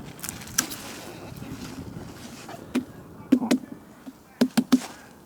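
Several hollow, drum-like knocks on a ripe, elongated watermelon in a field in Zakarpattia, scattered and then in a quick cluster, over faint outdoor wind noise.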